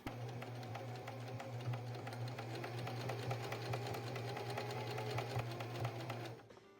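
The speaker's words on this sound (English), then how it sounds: "it doesn't say to zigzag stitch to reinforce, but I'm going to choose to do that" Sewing machine running a steady zigzag stitch across a fabric tissue holder, a continuous close mechanical whir with rapid regular needle ticks that stops abruptly near the end, no talk.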